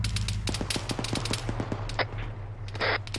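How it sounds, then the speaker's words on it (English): Rapid gunfire in a military video game, a string of sharp cracking shots in quick bursts, some close and some more distant, with no talking over it. "I think we're taking fire from the west."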